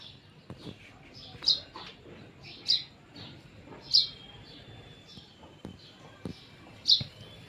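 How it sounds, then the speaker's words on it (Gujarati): House sparrows building a nest give short, sharp chirps repeated every second or so, fairly faint against a quiet outdoor background. "ચકલા માળો બનાવે છે"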